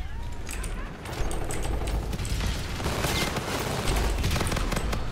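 Automatic rifle fire in the shooter game Call of Duty Infinite Warfare, a dense, continuous rattle of rapid shots with mechanical clatter running through the whole stretch at a steady loud level.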